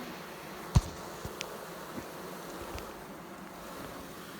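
A steady, faint insect drone of bees swarming around an opened beehive, a low continuous hum with one brief sharp knock near the start and a few soft clicks, no voices.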